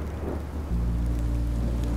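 In the Minecraft Story Mode video game, steady rain hisses while a deep rumble of thunder rolls in partway through and continues to the end, with no voices.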